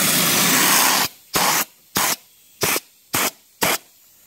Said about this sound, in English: I'm gonna spray a dipstick tube for the transmission.